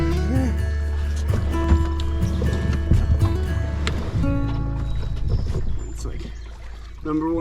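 Paddle strokes and water sloshing around a kayak on the Rum River in Minnesota, close and intermittent, with knocks against the hull and people talking over it.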